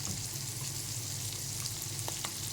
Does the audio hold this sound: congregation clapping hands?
no